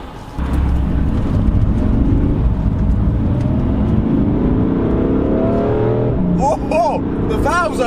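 A BMW M3 in Sport Plus mode accelerates hard with a loud, rising engine roar heard from inside the car. A person exclaims over it near the end.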